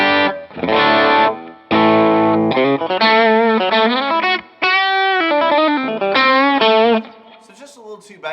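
Electric guitar with Lollar Novel T pickups and the tone knob rolled fully open, played as a run of bright, distorted sustained chords and notes with chorus-like shimmer, loud and close, ending in a brief decay.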